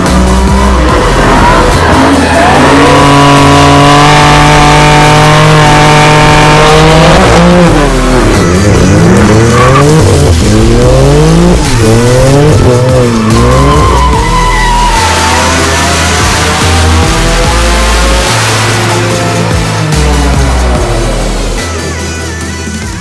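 A 2015 BMW M4 engine revs loud and close, climbing and falling through repeated throttle blips and gear changes, with a sustained roaring drone throughout and no talking.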